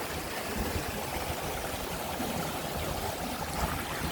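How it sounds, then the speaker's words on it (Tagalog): A river stream's flowing water rushes steadily and continuously at close range, with a broad, even gurgling wash and no voices. "Flowing water."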